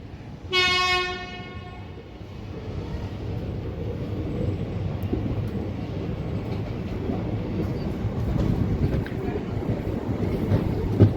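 An express train at Takari railway station, set among hills, sounds a loud horn blast at the start, then rumbles and clatters steadily on the rails as it departs, growing slightly louder.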